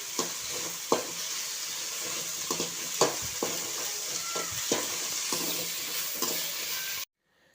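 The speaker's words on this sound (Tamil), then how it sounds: "போட்டு அதையும் கொஞ்சம் நல்லா வதக்கிக்கணும்." Pirandai leaves sauté in hot oil in a pan for a karuvapillai thokku, a steady sizzle broken by repeated scraping stir strokes, close and fairly loud, ending abruptly.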